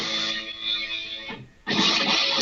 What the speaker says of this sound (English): You got distortion here.